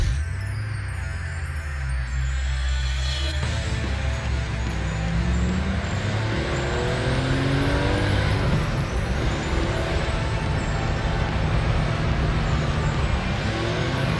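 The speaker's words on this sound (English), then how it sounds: "So here I am driving Carl's 74 911 Carrera on these awesome North Georgia mountain roads." A 1974 Porsche 911 Carrera engine drones loudly and continuously from inside the cabin on North Georgia mountain roads, revving up and down through gear changes as it drives.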